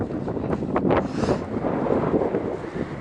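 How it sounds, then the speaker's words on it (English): Steady wind gusting across a mountain trail near Deception Peak in Santa Fe National Forest, a continuous roaring rush buffeting the microphone with slight swells and no speech. "Woo, more wind. You hear that wind?"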